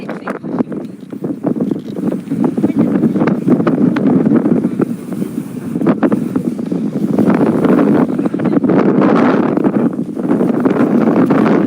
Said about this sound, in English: It's too windy to talk.